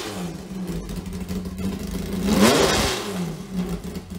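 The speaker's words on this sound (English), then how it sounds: "Ford Triton V10 from trucks, a more budget-friendly V10, but with the right tuning, it can sing." A large Ford Triton V10 truck engine idles with a low burble, then revs up sharply and falls back to a steady rumble.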